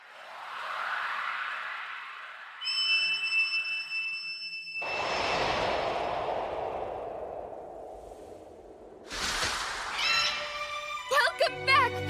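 In an animated series a bird flies back, with loud whooshing wing rushes sweeping past, a sustained tonal chime, then sharp squawking calls near the end.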